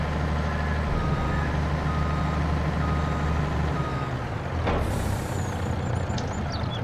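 Grain truck reversing in the Farming Simulator 22 farming game: a steady repeating electronic backup beep over a loud engine idle, with a short hiss of air brakes near the end and no talk.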